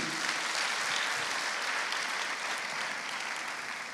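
A church congregation applauds, a dense, steady wash of clapping from many hands filling the room, fading slightly toward the end.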